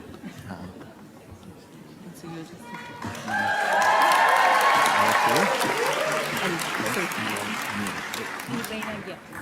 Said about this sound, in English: give a big applause